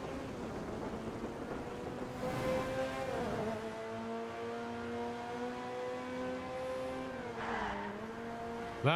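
A car in GTA Online slides on its handbrake, the engine droning steadily and a tyre squeal rising twice, around three and seven and a half seconds, with no talk.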